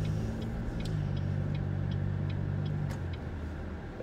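A 2019 Buick Enclave Avenir SUV cruising on the road, with a steady low engine and road rumble heard from inside the cabin, continuous and even throughout.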